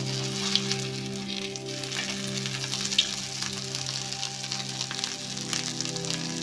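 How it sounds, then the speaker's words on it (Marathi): Aloo patties frying in oil in a pan, a steady close crackling sizzle with a few sharper pops over a low hum. "बघा त्याच्यावरती वरून तेल घालायचं म्हणजे दोन्ही बाजूनी भाजलं जाते"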